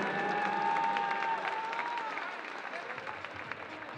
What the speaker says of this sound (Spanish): Que suenen fuertes los aplausos, señoras y señores.